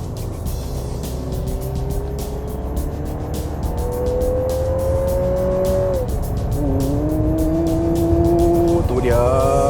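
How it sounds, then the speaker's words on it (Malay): Lexus NX 2022 driving on a straight road, a steady engine drone rising in pitch as it accelerates, with a gear change near the end, heard from inside over continuous road noise. "Kita tengok macam mana pergi kereta ni bila dekat jalan lurus."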